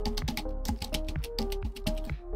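Someone types on a computer keyboard, producing a quick, uneven run of close, crisp key clicks over a couple of seconds, with no talking.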